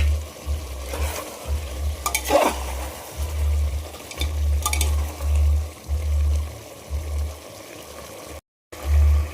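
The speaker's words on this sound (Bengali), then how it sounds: "চিকেন আমি মশলা দিয়ে কষানো শুরু করে দিয়েছি।" Chicken frying with spices in a pan, a continuous close sizzle under repeated stirring scrapes and a low rhythmic rumble from the stove.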